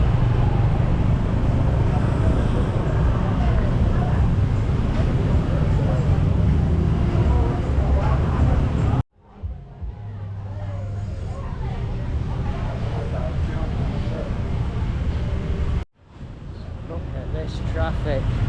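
Street traffic on Jalan Legian in Kuta, Bali: a steady close roar of passing cars and motorbikes with engine rumble, broken by two brief abrupt cuts before the traffic noise resumes.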